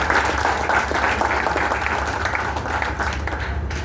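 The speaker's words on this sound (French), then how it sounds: "il faut applaudir encore une fois Occed et ces jeunes enfants qui sont là" Sustained applause from an audience at the opening of a new vocational training centre for young people in Haiti, steady dense clapping with crowd murmur throughout, fairly loud and close.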